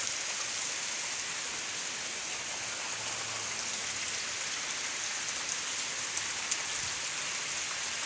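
Heavy rain falling on a roof of an empty house where someone shelters from a downpour, a dense constant hiss with a few scattered louder drops, steady and close.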